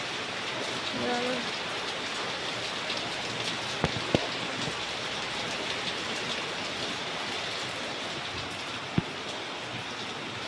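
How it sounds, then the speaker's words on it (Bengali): Heavy rain pours steadily over a house and waterlogged fields, a dense even hiss with a few sharp drips or knocks standing out. "দেখো এখনও বৃষ্টি হচ্ছে তো বিশাল জোরে বৃষ্টি হচ্ছে"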